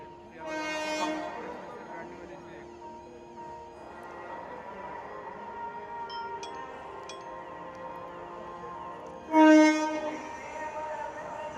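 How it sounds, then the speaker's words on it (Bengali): The 13185 Gangasagar Express with brand new LHB coaches pulls into platform 11 at Sealdah station, a steady rolling rumble of coaches with loud horn blasts near the start and again near the end. "13185 গঙ্গাসাগর এক্সপ্রেস ঢুকছে।"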